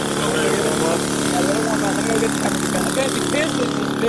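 A nearby RC model aircraft engine runs loud and steady in a mid-range drone at a flying field, with people talking over it.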